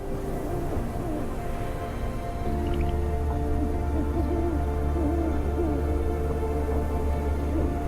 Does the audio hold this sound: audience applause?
no